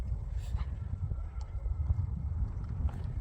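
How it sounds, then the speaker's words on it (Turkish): Low, steady rumble of wind buffeting the microphone, continuous throughout with faint scattered knocks in the background. "Tamam rüzgarlı bir gün."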